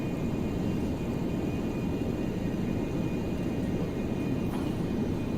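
Steady airplane engine drone from a flight game, the aircraft cruising at high altitude and high speed; a constant broad roar at even loudness throughout, with no voices.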